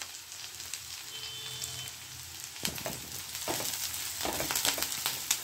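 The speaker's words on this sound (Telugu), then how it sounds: "ఆనియన్స్ ఇలా ఫ్రై అవుతున్నప్పుడు" Onions fry in a pan with curry leaves being added, a soft crackling sizzle that grows busier and louder partway through, with sharp spitting pops.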